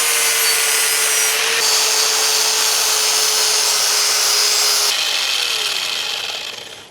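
A power grinder working on metal placard mount pieces before welding gives a steady, loud abrasive whir with a shift in tone partway through, then winds down at the end.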